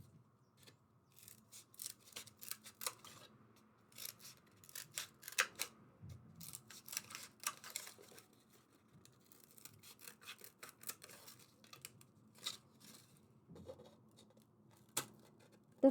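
Scissors cut up a styrofoam egg carton in short, uneven bursts of snipping and crunching, quiet and close, with no talking.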